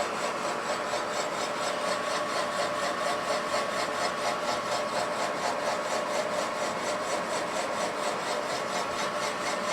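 A carbide boring bit grinds through rust inside a Suzuki TS185 motorcycle cylinder, giving a steady, harsh scraping whir with a fast regular pulse, close and continuous with no talk.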